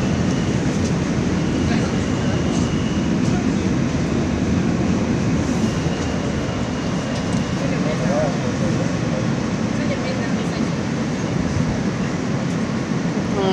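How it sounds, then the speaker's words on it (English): Ride aboard a Manhattan-bound New York subway J local train, with a loud continuous rumble and rattle of the car throughout and faint squeals along the way; a voice is heard over the train noise. "This is a Manhattan-bound J local train."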